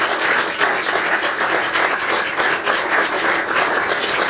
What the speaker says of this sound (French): je vous demande aussi d'applaudir Bernadette